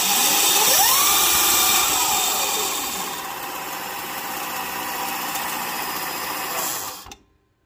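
An electric supermoto motorcycle in its fastest ride mode gives a rising, whining electric motor pitch that climbs and holds, with wind and road noise, then cuts off abruptly at the end.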